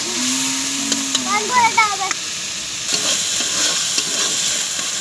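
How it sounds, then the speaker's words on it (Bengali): Spice masala for a pumpkin dish sizzles and fries in a pan as it is stirred. A steady hiss carries through, with brief tonal squeaks and scraping over it, close and loud. "মশলাটা ভালো করে কষিয়ে নেব। মশলাটা যত কষাবো ততই খেতে টেস্টি হবে।"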